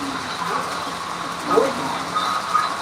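A model railroad train runs on double track in a fair exhibit, a steady rolling hum and faint clicking heard at a distance under a noisy crowd ambience.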